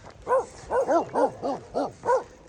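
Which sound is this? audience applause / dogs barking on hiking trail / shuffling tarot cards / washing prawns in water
dogs barking on hiking trail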